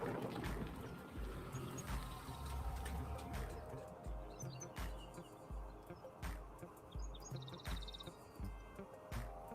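Faint birds chirping in the background over a low outdoor rumble with occasional clicks and knocks nearby.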